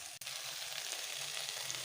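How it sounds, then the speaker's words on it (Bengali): Vegetables with spices frying in a pan for Bengali potol chingri (pointed gourd with prawns), a steady dense sizzle with a brief clatter near the start, no talking. "একটু সময় ভাজা ভাজা করে নিই।"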